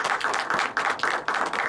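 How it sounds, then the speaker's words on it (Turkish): Lively audience clapping at a Turkish commemorative event as a singer is called up, a dense burst of many hands with rhythmic surges, close and without speech. "Evet, bir alkışlayalım mı Sabena Hanım?"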